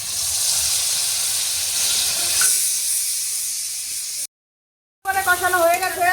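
A spice paste of ginger, green chili, cumin, turmeric, salt and sour yogurt hits a hot pan for ilish polao, raising a loud, steady hiss for about four seconds. It cuts off abruptly, and a voice follows after a brief gap.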